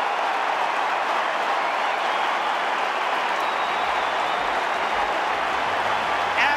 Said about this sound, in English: Crowd erupts for the Cats, and look at the congratulations